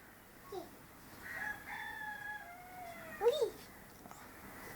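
A rooster crows faintly at a distance, one drawn-out call with a rising and falling tone, set against low background noise.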